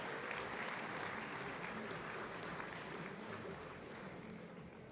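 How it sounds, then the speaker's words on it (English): An audience at a horticulture awards gala dinner gives a steady, even round of applause, distant and fairly faint, tapering slightly toward the end. "A round of applause for Steve"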